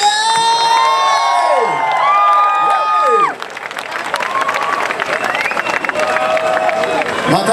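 An audience at the Anime Friends 2015 convention cheers and whoops over clapping for a band, with high shouted voices sweeping up and down before settling into steady applause and scattered yells.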